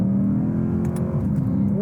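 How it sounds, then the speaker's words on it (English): A 2023 Lexus IS500 F Sport Performance V8 engine revs close by with a loud, steady low rumble and a slight swell in pitch, and no talking over it. "If you want that old school rock and roll V8 rumble"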